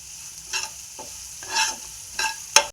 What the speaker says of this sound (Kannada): ಹಾಕಿ ಇದು ಸ್ವಲ್ಪ ಚೆಂದಾಗ ಕೈ ಆಡಿಸ್ಕೋಬೇಕು.